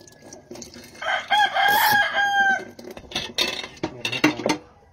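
A rooster crows loudly and close, a long strained cock-a-doodle-doo, with hens clucking and clattering pots in the background.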